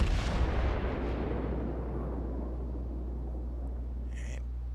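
A heavy naval gun blast from the Amagi warship in a naval battle game, a deep boom at the start that rolls off into a long fading rumble over low steady engine noise.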